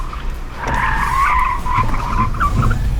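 Tyres on an electric car squeal sharply under hard steering on a track, the loud, wavering screech rising and falling over several seconds.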